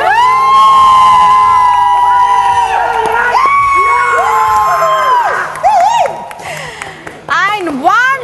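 A crowd at the final of the Okka Magadu reality show in Kakinada, Andhra Pradesh, cheers and whoops loudly for the title winner. Whistles and shouts rise over a steady roar of voices, and the noise thins out toward the end.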